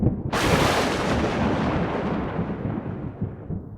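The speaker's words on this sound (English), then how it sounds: "when we click Zeus, we hear a thunder sound" A thunder sound effect plays when Zeus is clicked on an interactive intro slide. It starts with a sudden loud crack, then a long rolling rumble that slowly fades.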